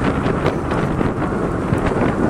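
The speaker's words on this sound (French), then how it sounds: "il y a du vent, c'est un vent de fou" Strong wind buffets the microphone on a Bezior S1 scooter at full throttle, a continuous roaring rumble with gusty bursts rising and falling and no voices.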